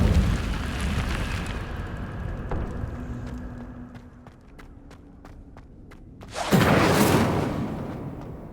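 Incendio fire spell blast in a Harry Potter video game: a roaring fiery rush that fades into a series of light footsteps, then a loud, bright whooshing burst of flame near the end.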